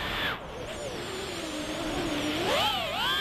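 A TinyHawk II race drone in flight gives a loud, continuous high-pitched whine from its tiny motors, sweeping down and then sharply back up in pitch as the throttle changes, with no talk.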